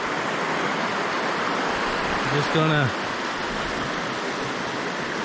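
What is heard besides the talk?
flowing water of the Sulphur River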